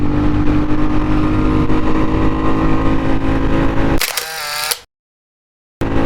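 Royal Enfield Classic 350 single-cylinder motorcycle accelerating hard through the gears, a loud steady thumping engine drone with wind noise that rises briefly before cutting out abruptly.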